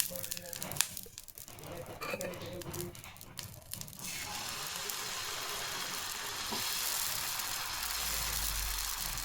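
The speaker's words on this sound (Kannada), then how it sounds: "ತವ ಕಾದ್ಮೇಲೆ ನಾವು ಮಿಕ್ಸ್ ಮಾಡಿದಂಥ ಹಿಟ್ಟನ್ನು ಅದರಲ್ಲಿ ಹಾಕಿ ದೋಸೆ ಥರ ತೀರಬೇಕು" Dosa batter sizzles on a hot tava, a steady broadband frying hiss that grows louder and denser as the pan heats, with some speech and clatter early on.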